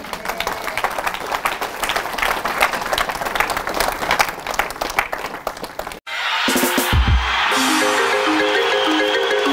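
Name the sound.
church audience applauding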